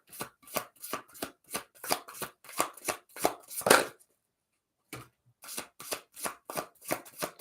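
A deck of The Sacred Dest oracle cards is riffled and shuffled in steady rapid bursts, close and fairly loud, with a brief pause before the shuffling resumes and no talking.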